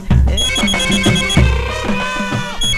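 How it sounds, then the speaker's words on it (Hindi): A telephone rings loudly and close, with a repeating bright electronic ringtone pattern over low music, with no talking. "सीएम साहब का फोन, सच में देखिए ना"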